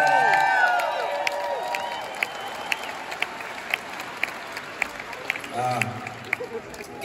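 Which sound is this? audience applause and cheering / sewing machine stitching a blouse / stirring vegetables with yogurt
audience applause and cheering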